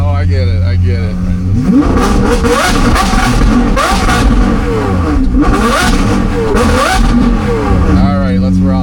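A car with a straight-piped Gintani titanium aftermarket exhaust revs hard and repeatedly, its loud engine note rising and falling in rapid sweeps throughout, with people talking over it.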